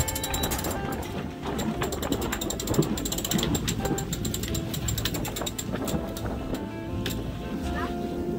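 A sailboat winch is cranked with a rapid, steady ratcheting click that continues for several seconds, with people talking and wind and water around it.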